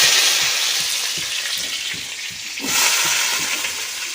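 Potato pieces fry in hot oil in a kadai in a village kitchen, giving a loud continuous sizzle with a crackling hiss, broken by soft repeated stirring scrapes, and no talk.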